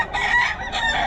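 A rooster crows at a busy Bocaue market day, a close, harsh strained call held across about a second amid crowd background.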